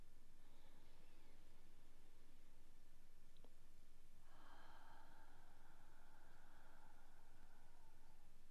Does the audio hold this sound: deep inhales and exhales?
yes